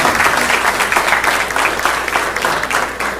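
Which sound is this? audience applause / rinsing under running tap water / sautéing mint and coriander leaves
audience applause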